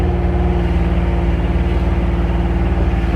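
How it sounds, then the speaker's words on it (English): A John Deere Gator utility vehicle's engine holds a steady, loud, close mechanical drone at a theme park construction site, unbroken and without voices. "you will be driving these gators around the track with mulch and some rock that you'll have to climb over"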